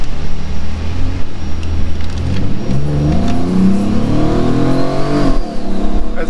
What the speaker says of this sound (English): As you can hear, this the whistling of the turbo.